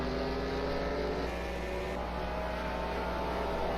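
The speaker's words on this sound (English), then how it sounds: "This is a good flyby." Race cars sweep past in the Hot Wheels racing video game at Watkins Glen, a steady loud engine roar with a slight Doppler sweep near the middle, carrying on without any talking.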